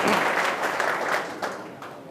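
A gathered audience at a business talk bursts into dense, close applause that holds for a couple of seconds, then begins to fade.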